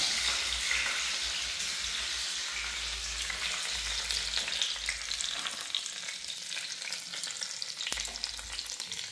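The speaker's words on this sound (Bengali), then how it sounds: "ঘিটা গরম হয়ে গেছে, এখন আমি দিয়ে দিচ্ছি 5 ফোড়ন, আর শুকনো লঙ্কা, তেজপাতা।" Panch phoron, dried red chillies and bay leaves sizzling in hot ghee, a loud, steady crackling fry close up, with occasional stirring scrapes and a slightly quieter stretch toward the end.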